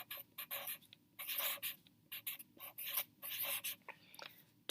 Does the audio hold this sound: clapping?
no